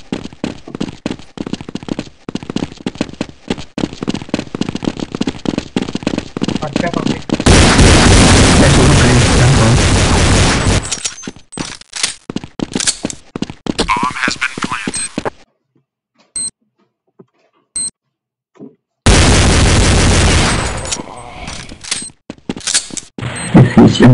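Gunfire in Counter-Strike 1.6 on the Dust 2 map: loud, dense bursts of shots and mechanical clicks, broken by sharp silent gaps and a second heavy volley near the end.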